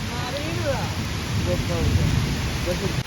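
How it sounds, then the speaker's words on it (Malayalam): Steady heavy rain hisses throughout at a forest campsite in Wayanad, with low rumbling thunder underneath; faint voices murmur in the background. "ഇവിടെ വന്നപ്പോൾ ഫുൾ മഴയും ഇടിയും"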